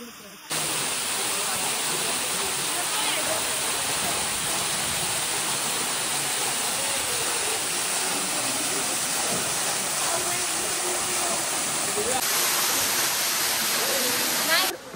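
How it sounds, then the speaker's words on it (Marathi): Jibhi waterfall in the Himachal hills with low water flow, a constant close broadband roar of falling water under people talking. "मागे आहे जीवी वॉटरफॉल. आणि कसं दिसतंय,"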